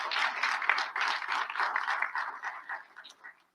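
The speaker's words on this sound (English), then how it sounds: "So how about a round of applause for all of my league members?" An audience claps and applauds for league members at a League of Women Voters candidate forum for Oxnard City Council, a dense burst of clapping that holds steady and then thins out and fades toward the end.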